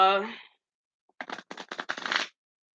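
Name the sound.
shuffling cards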